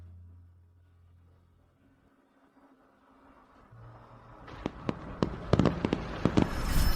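After a quiet, low hum, a burst of fireworks begins: sharp crackling pops and bangs arriving in quick succession, growing louder toward the end.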